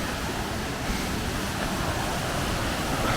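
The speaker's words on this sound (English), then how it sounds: "And look a mini waterfall." Small waterfall on a river near Manchester, a constant close roar of falling and churning water that holds steady throughout, with no voices over it.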